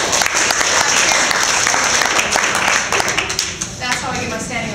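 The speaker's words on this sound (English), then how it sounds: "Give yourselves a round of applause." An audience applauds in a dense, steady burst of clapping that thins out toward the end, close and loud, with a voice partly heard over it.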